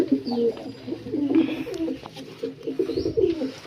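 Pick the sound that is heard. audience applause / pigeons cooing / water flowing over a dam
pigeons cooing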